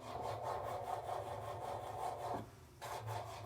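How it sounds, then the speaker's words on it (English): A nail drill buffing down gel nails during a home manicure, a steady whirring, rasping grind that stops briefly partway through and then resumes, close and fairly quiet, with no talking. "buff and drill them down a bit"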